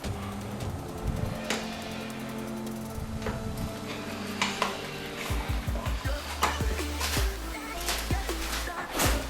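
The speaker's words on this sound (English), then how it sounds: "Go ahead and add a little bit of butter. Mix that in real good." Butter being stirred into a mixture in a pot while barbecue ribs and sides are prepared, with repeated scraping and clinking of a utensil against the pot over a low background hum, fairly close and steady.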